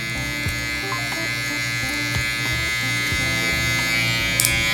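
Electric hair clippers blending a taper fade into a 1.5 guard on the side of a head, giving a steady close-up motor buzz that stays even throughout with no talking.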